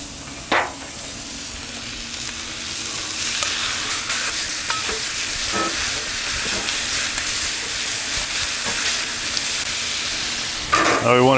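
A ribeye steak sizzles in canola oil on a Blackstone flat-top griddle, giving a steady, close frying hiss throughout with a few soft clanks of a utensil and a sharp scrape near the end.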